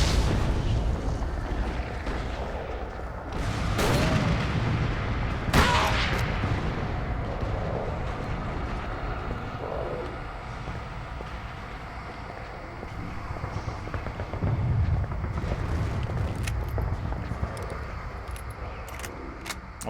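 Weapon gunfire in the Call of Cthulhu video game, a few sharp loud shots early on over a rumbling, mechanical game background.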